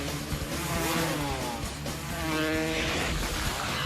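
Several Kawasaki dirt bikes rev hard in a movie scene, their engines droning loud and close with rising, wavering pitch throughout.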